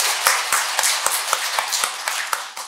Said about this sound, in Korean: 박수 소리하고 그 우렁찬 막 환영의 소리가 대단합니다.